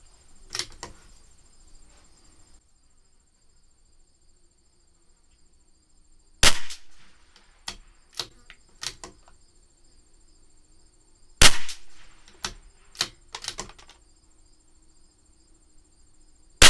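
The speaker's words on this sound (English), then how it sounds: "That's our 10 fouling shots." Rifle shots from a CZ 457 LRP rimfire with an IBI barrel, firing pistol match ammunition as fouling rounds: about ten sharp, loud cracks spread irregularly over a quiet outdoor background, with a faint steady hiss between them.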